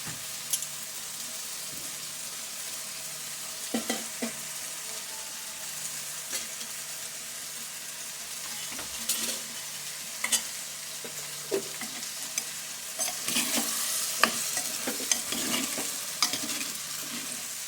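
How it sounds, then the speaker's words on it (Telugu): Washed ridge gourd pieces frying in a pan of oil as a spoon stirs them, with a steady soft sizzle and irregular scraping knocks that grow busier toward the end. No one speaks. "బాగా కలపాలి. నీట్గా మిక్స్ చేసుకోవాలి."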